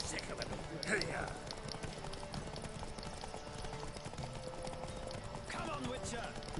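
Horse hooves clip-clop at a run during a horse race in The Witcher, with a brief whinny and voices calling out over steady background game ambience.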